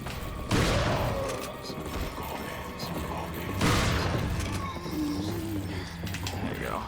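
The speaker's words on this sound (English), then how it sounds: "We're just going to stick to the shotgun." Two heavy shotgun blasts in the video game Resident Evil 4, about three seconds apart, each with a booming tail, while a person talks over the game audio.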